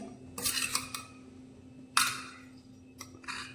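Metal kadai being handled on a gas stove while cooking, with a few faint clinks and scrapes spread out over a steady low hum.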